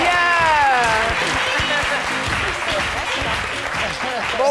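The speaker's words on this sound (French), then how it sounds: "Héros du jour, Ghislain Dadier, que je vous demande d'applaudir très très fort." A French daytime TV studio audience claps loudly and steadily for an arriving guest on set, while a presenter's voice talks over the applause.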